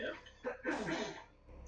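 A single quick sneeze, fairly faint and nearby, with some background murmur around it.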